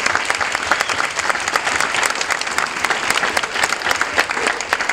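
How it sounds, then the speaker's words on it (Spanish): An audience applauds warmly for the director at an academic talk on gender and sexuality, a dense, steady burst of many hands clapping that fills the room for several seconds with no voices over it. "creo que sí merece un aplauso aquí nuestra"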